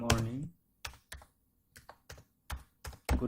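Keys tapped on a computer keyboard while a short greeting is entered into a Facebook post, heard as several separate bursts of close clicks with silent gaps between them, starting just after a brief spoken word.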